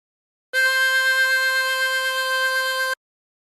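A single harmonica note blown into hole 4, held steady and clear for about two and a half seconds, close and alone with a rich bright tone.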